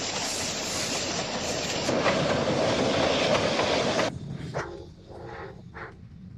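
A train runs along railway track on the High Line in the American Southwest, a loud, steady rolling roar with wheel rumble that suddenly thins out toward the end.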